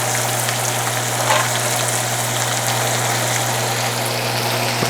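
Deer backstrap frying in butter on a hot cast iron pan gives a continuous, close sizzle with a steady low hum underneath and no talking.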